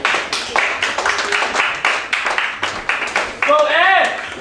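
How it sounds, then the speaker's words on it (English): An open mic crowd at Gotham Radio claps in a loose, uneven patter to welcome a poet to the stage, with a brief tonal whoop or cheer rising near the end. "Let's give a round of applause for Ed."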